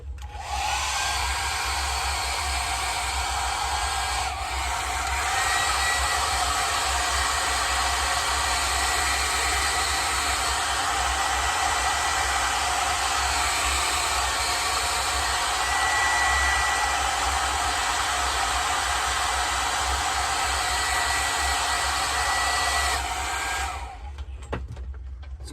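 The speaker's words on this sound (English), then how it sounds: "It's nice to have a hair dryer handy." A hair dryer blows continuously and loudly, a steady broadband rush drying paint on a Corgi die-cast Centurion MK3 tank model, running alone for most of the stretch before cutting off near the end.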